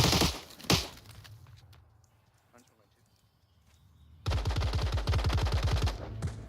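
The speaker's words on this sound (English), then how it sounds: "Very distinctive AK-104 shots here" AK-104 rifle fire in the Onward VR shooter game: a couple of sharp shots early, then a long rapid automatic burst near the end, heard under a commentator's voice.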